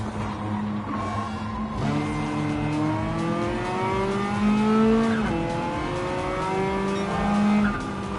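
Race car engine in Gran Turismo 7 drones loudly and steadily throughout, its pitch climbing through gear changes with brief drops and a short tire squeal, close and continuous.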